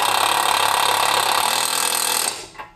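A power tool runs loud and steady, tightening the nut on a steering tie rod during a steering rack replacement on a 2013 Audi A4 B8.5, a dense continuous whir that cuts off sharply near the end.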